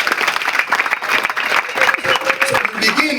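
Audience applause at a church gathering led by a bishop, dense steady clapping with some cheering and ululation mixed in, loud and continuous throughout, with a voice faintly audible beneath.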